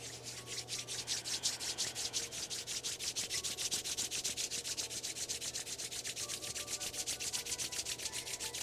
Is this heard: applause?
no